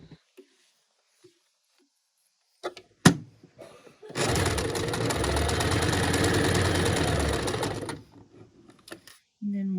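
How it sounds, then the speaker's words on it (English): Sewing machine stitching seams of pinned fabric, a steady rapid mechanical whir for about four seconds after a few handling clicks and bumps, close and fairly loud. "take it to the machine to sew"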